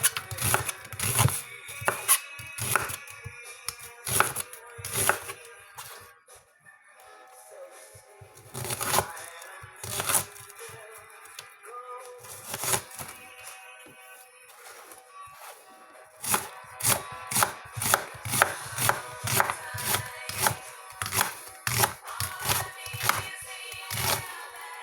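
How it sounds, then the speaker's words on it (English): An onion being sliced thin with a knife on a cutting board, rapid runs of sharp chopping taps with short pauses between bursts. "So we just start to cut the onion in thin slices."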